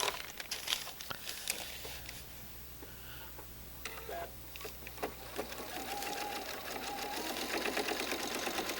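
A sewing machine stitching a quilt block along a marked blue line, running steadily and softly at close range, with light fabric rustling and handling clicks mixed in.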